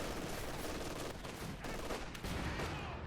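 Heavy machine gun fire in Company of Heroes 2, a World War II real-time strategy game, heard as a dense, continuous rattling barrage of gunfire with battle noise, loud throughout with no pauses.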